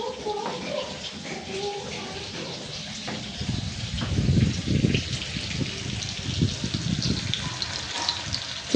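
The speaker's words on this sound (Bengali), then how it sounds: "চিংড়ি মাছ ভাজা হয়ে গেছে" Prawns fry in oil in a pan in a home kitchen, a steady, close crackling sizzle that swells louder partway through, with some scraping and stirring.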